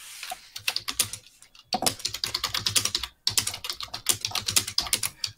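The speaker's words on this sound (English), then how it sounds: "I hear you typing" Fast typing on a computer keyboard, close by and steady, in quick bursts of clattering keystrokes broken by short pauses. No voices are heard.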